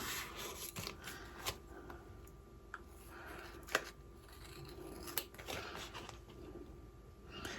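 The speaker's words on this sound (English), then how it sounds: "I'm going to take scissors and I'm going to cut around my design." Scissors cutting around an embroidered design for a key fob: quiet, close snips, a series of small sharp cuts at an irregular pace with soft handling noise between them.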